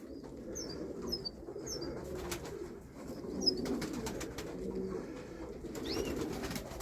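Pigeons coo softly in a steady outdoor murmur, with chirps and bursts of wing flapping scattered throughout; no talking.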